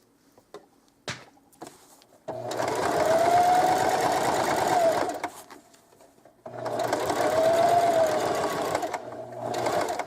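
A sewing machine stitches an appliqué onto a sweatshirt in two long, steady runs of motor hum and rapid needle clatter. A short pause separates them, and a few faint handling clicks come before.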